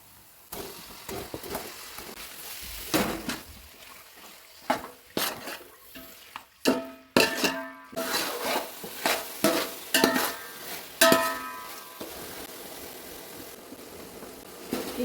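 Mutton being stirred and fried in a pan with ginger garlic paste and mint for mutton tahari, with irregular scraping and clanking of a spoon against the pot over a soft background sizzle, close and moderately loud.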